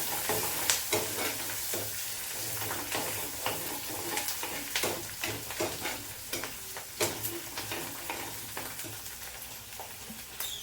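Garlic sautéing in a pan for a medicinal kuzhambu, a steady close sizzle broken by repeated scraping and stirring clicks from a spoon, with no talking.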